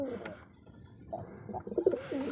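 Kalchiro pigeons cooing close by in a loft, low throaty coos rising and falling in short bursts with soft bird chatter and handling noise, no clear speech.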